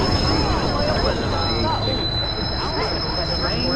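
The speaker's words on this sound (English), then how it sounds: "Northbound train arriving shortly." A train in the Watch Dogs video game pulls into a station, its wheels squealing with a high steady whine over low rumbling and clattering, while a voice talks over it.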